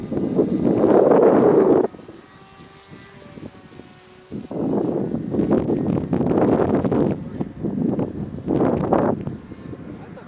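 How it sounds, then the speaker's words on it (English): Strong wind buffeting an outdoor microphone in loud, roaring gusts that drop briefly to a lull before surging back in several heavy bursts. "That's a fucking wind, man. It's trying to blow the damn thing away."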